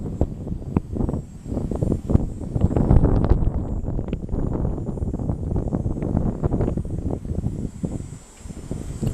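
Strong wind blowing outdoors, a loud continuous roar and buffeting against the microphone, gusting unevenly throughout with no other clear sounds.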